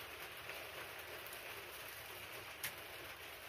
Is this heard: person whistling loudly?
no